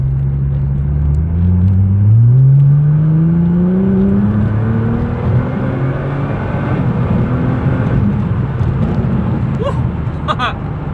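A car accelerates hard from low to high revs, its engine rising steadily in pitch through a long pull and shifting into a loud, roaring drone with rumble, heard close from inside the vehicle.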